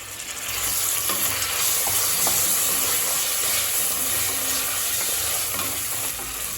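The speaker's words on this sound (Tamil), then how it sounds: "தக்காளி லேசாக வதங்கிடுச்சு." Onion and tomato with a little mint sauté in a hot pan, producing a loud, steady sizzle and hiss with occasional stirring scrapes, close and continuous without speech.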